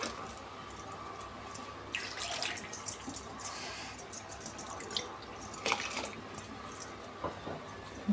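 Water is poured into a pot of sprouted-gram sambar, giving soft, intermittent splashing and dripping bursts at close range, quiet and without talk.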